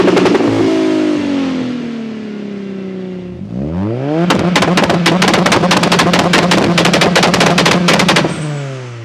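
A 520 hp Ford Sierra RS500 and a 560 hp Toyota Supra rev hard and close by, first rising and falling revs, then a long loud burst of rapid crackling pops and bangs over the engine note before it cuts off.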